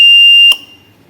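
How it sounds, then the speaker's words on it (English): A single sharp relay-controlled buzzer beep on a water level controller, loud and high-pitched, holds for about half a second then cuts off abruptly with a brief click. "this is indicated by buzzer sound, and this buzzer is controlled by this relay"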